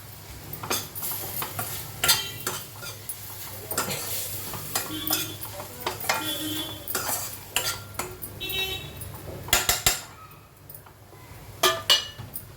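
Garlic frying in a pan while being stirred: a spoon scrapes and clinks against the metal repeatedly under a soft, steady sizzle, with a few louder clanks near the end.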